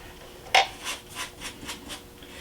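Powdered weathering pigments in light brown, dark brown and rust being scrubbed onto a Star Wars style diorama: one sharp scrape, then about five soft, evenly spaced brushing strokes, close and fairly quiet, with no talk.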